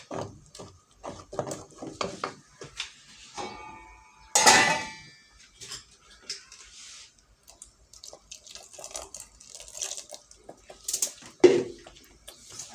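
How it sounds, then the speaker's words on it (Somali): Water poured into a pot of molokhia stew, with splashing and dripping, a brief louder pour near the middle and clinks of the pot, all close and with no one talking. "ka xoogaa yaro biyaan ku soo darsan doonaa"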